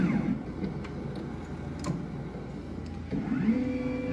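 An xTool S1 laser engraver running its automatic distance measurement, a faint whirring motor with soft ticks and a rising servo whine near the end, heard up close in a quiet workshop.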